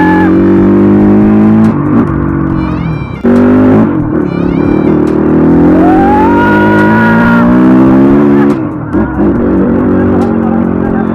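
A new dirt bike engine revs hard up close, loud and continuous, with rising and falling pitch sweeps and a few brief drops as the throttle is blipped over about eleven seconds.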